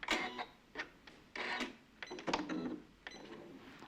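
Sewing machine whirring and clicking in short mechanical bursts as it resets the presser foot and runs its automatic threader, quiet and close, with brief pauses between movements.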